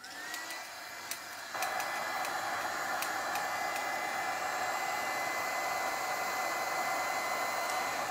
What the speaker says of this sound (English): I'm just going to dry the bottom so I can put it back.